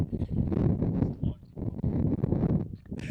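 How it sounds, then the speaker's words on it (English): Strong gusting wind buffets the microphone at Carhenge in Alliance, Nebraska, a loud continuous low rumble that swells and dips; a voice seems to talk faintly underneath. "The power of the wind."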